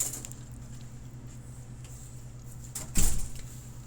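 A door opens or closes with a brief, fairly close thump and rattle near the end, over a constant low hum and background noise, with no voices.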